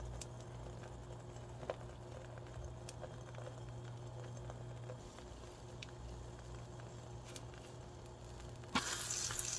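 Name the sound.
eggs poured into a preheated oiled pan, sizzling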